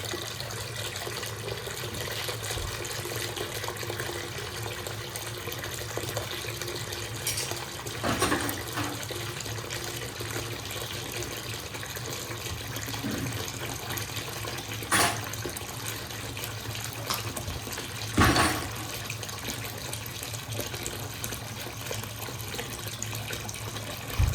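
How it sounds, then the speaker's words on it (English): Hot water runs from a tap into a plugged bathroom lavatory sink, a soft, steady pour with a few faint knocks. "We use hot water. Go go ahead and plug it. Let's get this filled up"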